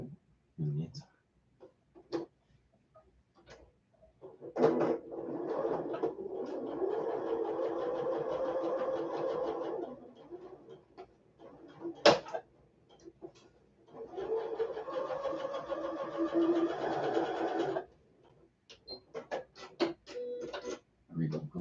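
A sewing machine runs in two sustained bursts of rapid, even stitching while sewing a quarter-inch quilt seam, close and moderately loud, separated by quiet handling and faint clicks of fabric and pins; a voice talks briefly at times.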